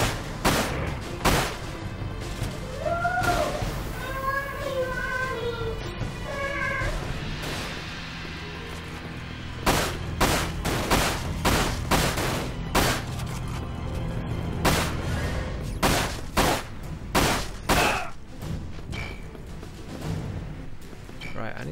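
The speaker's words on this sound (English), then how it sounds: "Who's shooting me?" Gunfire from the PS2 game Dirge of Cerberus: Final Fantasy VII, with sharp repeated shots in bursts and scattered single cracks, mixed with game sounds and a brief tonal cue.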